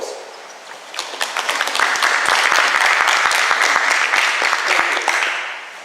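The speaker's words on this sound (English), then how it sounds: "I'd like you to welcome him with a round of applause" A community meeting crowd in Blackbutt gives a round of applause to welcome a new visitor, a modest gathering with sharp individual claps building quickly, holding steady, then tapering away.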